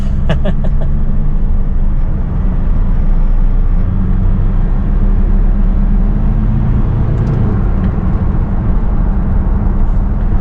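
A used single-owner Ford car drives with a loud, steady rumble of engine and road noise that holds its pitch for about ten seconds, with no speech.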